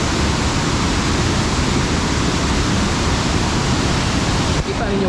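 Water rushes strongly into Malubog Lake in Toledo City, Cebu, a dense, loud, unbroken roar of flowing water filling the whole clip, with a faint voice briefly audible.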